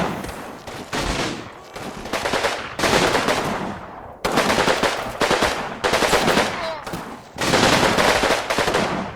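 Machine guns in Combat Mission Final Blitzkrieg fire long, loud, continuous bursts, broken only by a few short pauses, in a sustained, close rattle.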